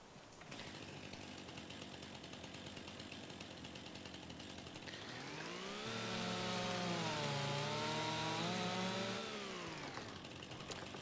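A chainsaw cuts timber in the video game Farming Simulator 25. Its engine drones steadily, then revs up into a louder, higher whine for a few seconds and eases back to idle.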